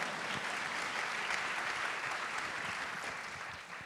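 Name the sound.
audience applause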